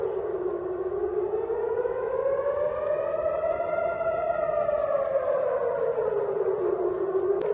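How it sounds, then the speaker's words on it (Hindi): An air raid siren wails from a distance at night in Israel during Iranian missile attacks, its tone rising slowly and then falling in one long, continuous sweep. "अभी रात का टाइम है, अभी 3 बार जो है सायरन बजी है।"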